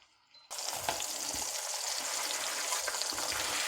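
A bratwurst patty hits hot cast iron and bursts into a loud, continuous sizzle up close, the sputtering hiss holding steady after a brief quiet moment at the start.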